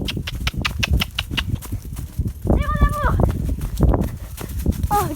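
A small pony walking outdoors, its hooves clip-clopping in an irregular rhythm close by, mixed with animal calls and someone speaking French over them.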